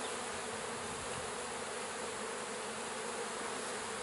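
Honey bees hum steadily inside a hive colony, a dense, continuous buzz heard close up and alone.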